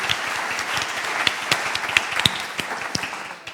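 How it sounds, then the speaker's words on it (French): Audience applause at a tribunal-style public hearing session, steady dense clapping from a crowd throughout with a few sharper nearby claps, tapering slightly at the end. "vous pouvez les applaudir"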